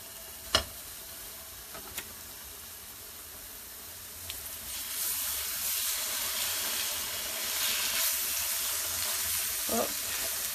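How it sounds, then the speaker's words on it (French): Risotto sizzles in a hot pan, a few faint clicks at first, then a steady broad hiss of frying that keeps going close by with no talking. "Donc le risotto est en train de cuire."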